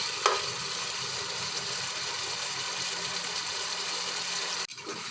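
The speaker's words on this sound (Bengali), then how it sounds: "আরেকটু কষিয়ে নিই।" Fish heads being sautéed with shidol in a pan, giving a continuous soft sizzle and stir with a faint low hum underneath, cutting off abruptly near the end.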